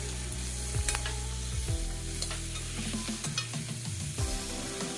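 Onions sizzle in a hot pan without oil, with repeated scraping and stirring of a utensil over the steady frying hiss, while pork is being cooked.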